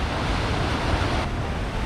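Koosah Falls on the McKenzie River in Oregon gives a steady, loud broadband roar of falling water, constant and unbroken, with no voices.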